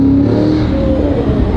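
A turbocharged Cadillac CT5-V Blackwing engine revs up loudly and close by in a short rising burst, its tone climbing as the throttle opens.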